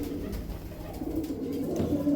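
Desi pigeons with pink beaks coo softly in a low, murmuring stream across the whole stretch, a flock of about six birds heard close by with no talk over them.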